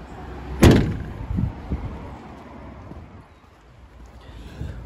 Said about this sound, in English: All the doors open as they should.